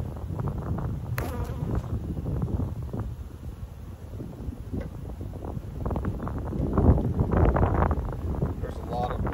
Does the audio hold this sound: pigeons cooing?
no